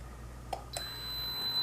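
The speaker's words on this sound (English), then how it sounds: "And the second beep." Short electronic beep from a smart water leak sensor in an EcoNet Bulldog Smart Life starter kit, heard once at moderate level with a brighter tone following, against a quiet indoor hum.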